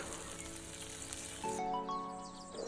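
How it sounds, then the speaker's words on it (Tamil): Paneer pieces shallow-fry in hot oil with a steady, continuous sizzle that swells slightly toward the end, heard close with no talking. "பன்னீர் பீசஸ் எல்லாமே நல்லா ஃப்ரை ஆகட்டும்."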